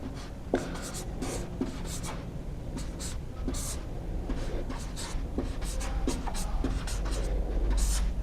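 Chalk or marker writing on a board during a lecture on constitutional history, a steady run of short scratchy strokes and taps, close and fairly quiet, with no talk over it.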